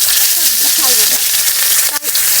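Hilsa fish sizzling steadily in hot oil, a dense crackling hiss throughout with a brief dip near the end and faint background voices.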